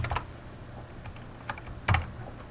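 Typing on a computer keyboard in LibreOffice Calc: a few scattered keystrokes close by, with a couple of heavier key presses standing out over a quiet background hum.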